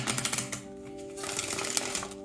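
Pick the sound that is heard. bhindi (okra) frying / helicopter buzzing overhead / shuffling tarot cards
shuffling tarot cards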